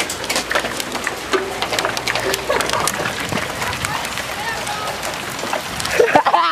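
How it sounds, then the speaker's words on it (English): Hail falls outdoors with a dense, continuous patter of hard pellets striking the ground and surfaces, under near, excited talking. "Look at all that hail."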